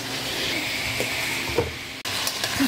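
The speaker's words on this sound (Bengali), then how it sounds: "চিকেনটা আমার একটু ভাজা ভাজা হয়ে গেছে" Chicken sizzles loudly in a pan for a Pahari chicken recipe, a continuous close hiss broken by a few soft stirring knocks and one brief cut-out near the end.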